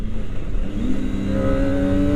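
A Kawasaki Ninja ZX-25R motorcycle engine in low power riding mode rumbles and then revs up, its pitch climbing steadily as the throttle opens, close and fairly loud.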